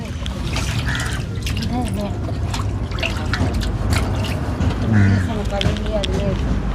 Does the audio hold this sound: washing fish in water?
yes